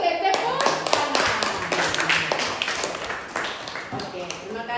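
A classroom group claps in applause, a brisk burst of many hands that fades over a few seconds, mixed with children's voices and a teacher talking.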